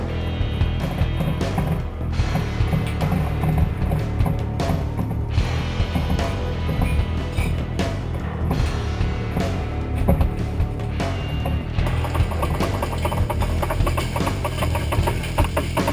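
An electric drill whirs in short repeated bursts while unscrewing sole boards aboard a yacht, with clattering and mechanical knocks between runs and a steady near hum throughout, no talking.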